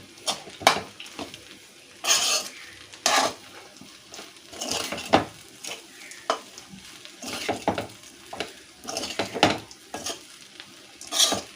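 Lemon rice is stirred in a pot with a metal spoon over low heat: repeated scraping and clanking strokes against the pot at an uneven rhythm, with a faint sizzle beneath, close and without speech.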